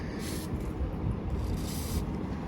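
A WD-40-like aerosol lubricant hisses from a spray nozzle in two short bursts during a wheel rework, close and fairly quiet, with no talking over it.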